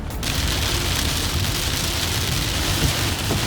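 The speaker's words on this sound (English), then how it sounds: "I have not seen it rain this hard in a long time." Heavy rain pours down in a steady, dense, loud hiss that continues unbroken with no voices.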